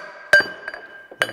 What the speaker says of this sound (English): take my lead hammer and just kind of tap it in here.